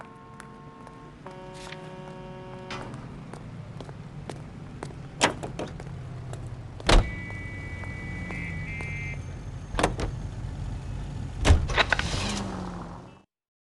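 A car in the video game L.A. Noire drives steadily with a low engine hum, while several sharp clicks and thumps and a brief tonal beep or chime rise over it before the sound cuts off at the end.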